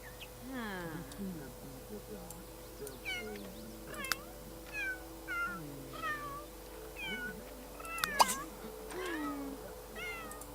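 Several cats meow repeatedly in short, rising and falling calls over a steady electronic hum, with a brief sharp click near the end, in The Sims 3 video game.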